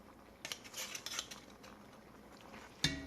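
Green chilies are stirred into turkey and white bean chili in a pot, with a spoon scraping and clinking against the metal in a few quiet strokes, ending in one sharper knock.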